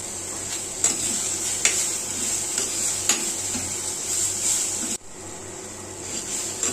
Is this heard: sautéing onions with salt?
yes